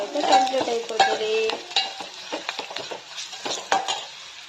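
Dal being finished with a turmeric tempering in a pan, with a spoon stirring and scraping against the metal over a light sizzle of frying; quick clinks recur at an uneven pace, close and fairly loud, with no voices.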